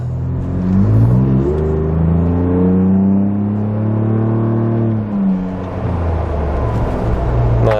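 A 2021 Ford Bronco with an AWE catback exhaust accelerates through the gears, its exhaust note climbing in pitch, dropping at a shift, then building again, loud and close from inside the cabin.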